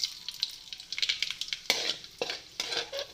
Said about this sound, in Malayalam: ഇതിലേക്ക് നമുക്ക് കടുക് ഇട്ട് കൊടുക്കാം.